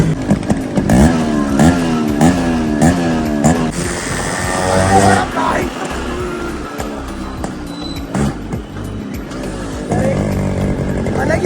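A Yamaha RX100 motorcycle engine revs repeatedly with rising and falling pitch, loud and close, with people talking over it.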